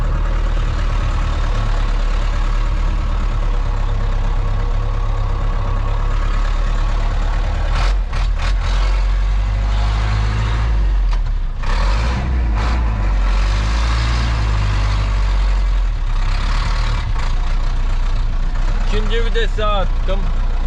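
A Chrysler Fargo truck engine runs loud and close with a steady low rumble while its newly fitted gearbox is tested in second gear, with a few brief bumps and clanks and voices partly over it.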